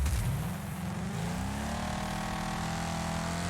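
Mustang race car driving hard in the Wreckfest racing game, engine note climbing and then holding a loud, steady buzzing drone, close and without talk.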